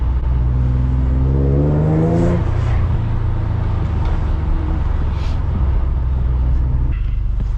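A 2008-era Infiniti G37 with its engine in limp mode drives home, the engine note rising as it accelerates through a gear then settling into a loud, steady drone with road noise.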